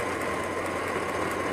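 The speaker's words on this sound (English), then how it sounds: "We just gotta find out which one of these is arcing." Car engine idling with a random multiple-cylinder misfire from an arcing ignition coil, a steady close rough rumble with faint uneven ticking and knocking throughout, no voices.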